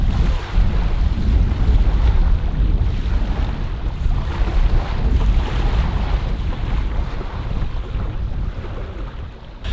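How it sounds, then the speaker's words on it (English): Waves slap and wind rushes around a new Northstar B17 canoe out on open water, a steady loud broadband wash with gust noise buffeting the microphone throughout, no voices. "So we got a little bit of waves, a little bit of wind."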